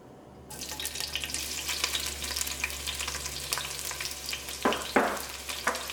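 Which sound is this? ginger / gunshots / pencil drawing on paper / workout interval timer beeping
ginger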